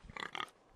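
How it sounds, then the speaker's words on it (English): A pig grunts and oinks in the Game of Thrones video game, giving a brief cluster of close, clear snorts that lasts under a second and stands alone. "Hey, a pig!"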